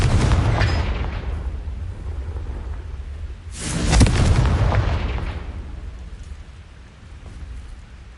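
A Confringo blasting spell explodes in Hogwarts Legacy with a loud, broad burst that swells and fades, set against a steady rumbling, rain-like wash of game ambience.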